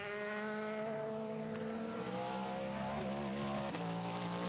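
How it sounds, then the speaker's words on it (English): Le Mans prototype race car powering out of the chicane at the 24 Hours of Le Mans, a loud, steady engine howl with rising and shifting pitch as it accelerates, close and continuous throughout. "out of the chicane. This is the car that's going to line up on pole position, the one that Alex Lynn did the gun time in."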